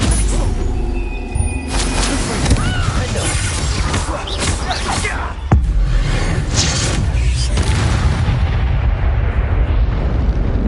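A Confringo fire spell bursts in the Hogwarts Legacy video game, with loud crashing explosions and battle effects layered over a continuous game soundtrack.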